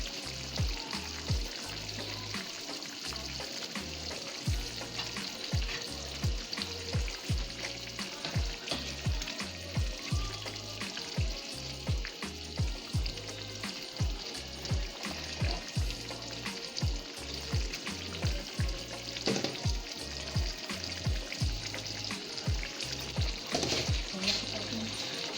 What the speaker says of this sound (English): we'll put our fish in the curry gravy with coconut milk.